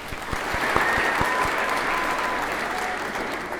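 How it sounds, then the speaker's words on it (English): Audience applause for the 2020 History Day state contest students at an awards ceremony, a dense steady wash of clapping holding evenly throughout with a few sharper claps near the start. "Let's have a round of applause for all of the 2020 state contest students"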